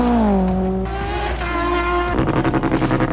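A Mazda RX-3 race car doing donuts after a race win, its engine revving hard with shifting pitch while the tires squeal steadily, loud and close.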